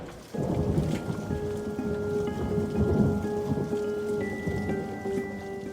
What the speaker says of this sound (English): It's stormy sea day aboard Royal Princess.